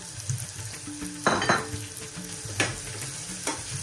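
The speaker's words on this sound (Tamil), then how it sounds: "வெங்காயத்தை போட்டு இப்படியே வந்து நல்லா பொரிய விட்டு கொள்ளணும்" Chopped onions frying in hot oil for a tempering to go into dal and spinach curry, a close steady sizzle with bursts of crackling and scraping spoon strokes against the pan, no talking.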